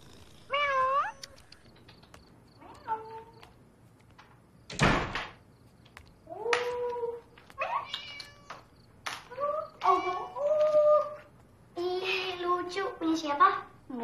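A black cat meows repeatedly indoors, several distinct rising and falling calls spread across the span, with a sharp door-like knock in the middle and a voice speaking between the meows.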